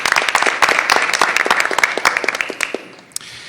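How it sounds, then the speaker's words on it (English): An audience at a school board meeting applauds for Victoria, a dense wash of many hands clapping at close range that holds steady for a few seconds, then thins out and ends with a single late clap. "Let's give Victoria a big round of applause."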